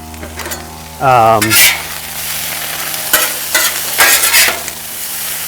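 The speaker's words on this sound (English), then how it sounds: "throw the steak right back on there" A steak searing on a grill heated to about 500–600 degrees gives a loud, steady sizzle. It swells sharply as the meat lands, and a few brief scraping clatters follow, with no talk.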